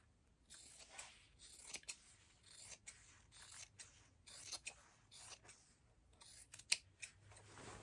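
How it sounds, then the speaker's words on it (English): Scissors cut a men's shirt apart along its side seam. The close, quiet, crisp snips and slicing strokes come in an irregular rhythm, with soft fabric rustling between them. "Now we're gonna cut it apart at the side seam."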